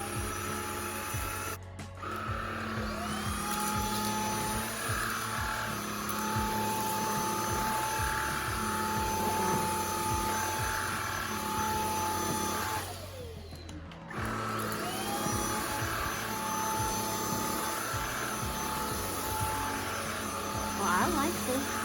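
A NEQUARE S25 cordless vacuum cleaner runs steadily with a continuous motor whine and broadband hiss, briefly cutting out twice, near and fairly loud.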